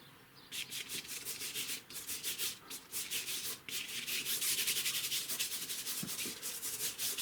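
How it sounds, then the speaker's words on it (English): An old varnish brush loaded with oil paint is scrubbed back and forth against a surface, making quick, rhythmic, raspy rubbing strokes that are soft and close, with no voices. "this old varnish brush, which is very nice. Just clean the paint out of it"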